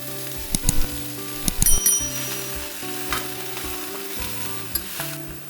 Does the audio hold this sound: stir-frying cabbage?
yes